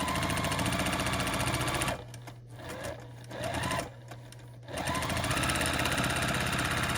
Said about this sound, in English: And we sew across there.